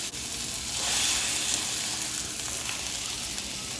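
Beef chuck roast sears in a hot pan for a pot roast, giving a steady, close hiss of sizzling fat that swells briefly then holds even, with no talking.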